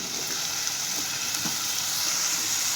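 Potato and carrot pieces sautéing in a hot pan for a bean dish, a steady close sizzle with faint crackling throughout and no talking.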